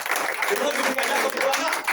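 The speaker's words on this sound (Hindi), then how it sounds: "सबसे तालियां बजा दीजिए" An audience claps continuously at a meeting about a construction tender, with a voice talking over the applause.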